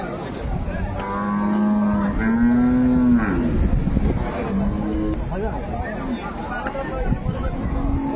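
Cattle at a village livestock market in Dinajpur, where cows with calves are sold, give several drawn-out moos. Traders talk loudly over a busy crowd and some engine noise.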